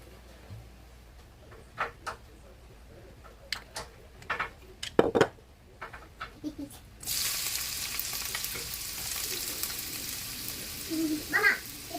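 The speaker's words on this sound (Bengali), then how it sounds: "এখানে আমি আজকে বরবটিগুলো ভেজে নেব চালু দিয়ে" Yardlong beans with potatoes are stirred in a pan with scattered clinks and scrapes before a sustained sizzle of frying starts and carries on, with occasional utensil knocks over it.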